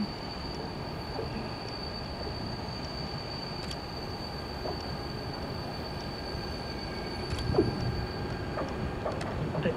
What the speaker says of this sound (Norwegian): The train is due to pass through on track 1.